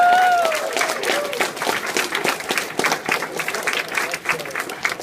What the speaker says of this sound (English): Let's have a round of applause for Saberspark.